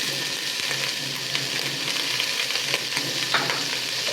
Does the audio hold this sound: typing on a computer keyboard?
no